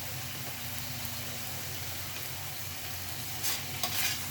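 Chicken keema masala frying and being stirred in a pan with dried fenugreek and garam masala, a steady close sizzle with soft scraping, brightening near the end, no voices.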